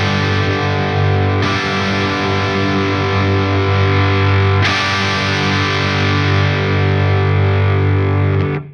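A distorted electric guitar runs through a Friedman IR-X twin channel valve preamp, playing a long sustained chord, struck again twice as the EQ setting changes its tone, loud, thick and saturated with no voices.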